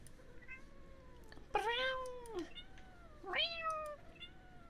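A rubber duck in the video game Plastic Duck Simulator gives cat-like meows, two clear drawn-out meows with a fainter short one before them, fairly close and with no talking.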